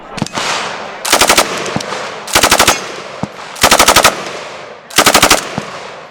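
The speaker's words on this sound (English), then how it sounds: "The nice people from Marksman TV said I can shoot their Lucas gun." A Lucas gun firing at a shooting range in four loud, close bursts of about half a dozen rapid rounds each, separated by short pauses with a few isolated single shots in between.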